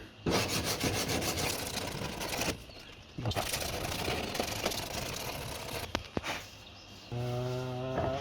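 Gel coat nodule being flattened by hand on a fiberglass boot lid for an Escort II, with steady close rubbing and sanding strokes broken by short pauses and a couple of sharp knocks, then a brief tonal hum at the end.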